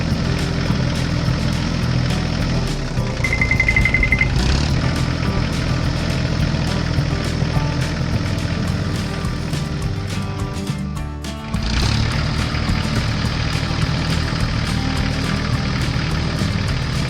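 A yellow tractor's engine drones steadily as it pulls a large trailer along a hilly road toward a gravel pit. The loud, continuous running dips briefly near the end, with no talk.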